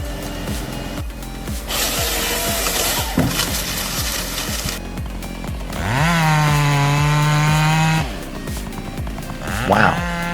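Handheld two-stroke chainsaw of up to 5.5 HP cutting wood, a loud buzzing engine that pulses and revs, then rises into a strained high whine as the chain bites into the log.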